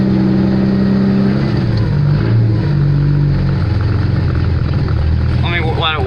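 A car engine idles cold on an electric choke, a loud, close, steady rumble that steps down in pitch as the idle settles, with a brief voice near the end.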